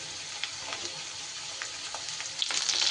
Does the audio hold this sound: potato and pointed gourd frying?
yes